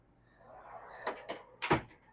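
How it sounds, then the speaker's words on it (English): A sliding door on a stacked washer dryer closet in a 2026 Tiffin Allegro Bus 40IP motorhome rolls softly, then gives two light knocks and a firmer thud as it shuts, all faint in a quiet interior. "We have our stack washer dryer on this side with the sliding door."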